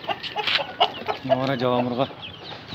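A pure-bred rooster kept in a cage clucks in short bursts, close and fairly loud, mixed with someone talking over it.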